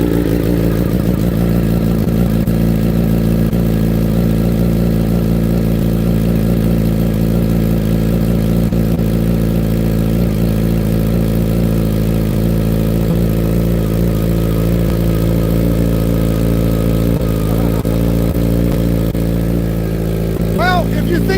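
A BMW M1000RR superbike engine runs steadily near the microphone, a loud continuous low throb with stable harmonics and no clear revving throughout.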